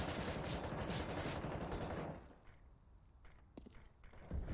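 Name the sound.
MP9 gunfire in a duel, from the video game Counter-Strike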